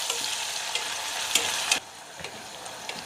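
Onion sautéing in hot oil with asafoetida and curry leaves for a dry black bean stir-fry, a steady close sizzle broken by sharp scraping stirs, going quieter after about two seconds.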